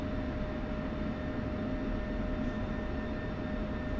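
An F-22 Raptor jet takes off in the DCS flight simulator with a steady, loud engine roar and a faint high whine, continuous throughout.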